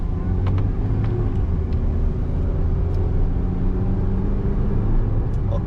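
A 2012 Perodua Myvi 1.5 SE automatic pulls away, its engine a steady, close rumble with a few light clicks on top, with no talking.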